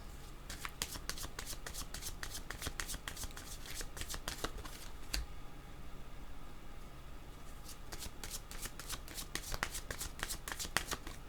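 Tarot cards being shuffled close up, with rapid riffling bursts that pause briefly in the middle and then resume, quiet and without voices.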